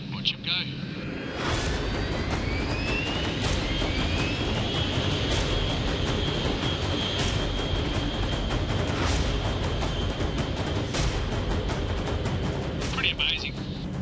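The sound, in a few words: B-52 heavy bomber taking off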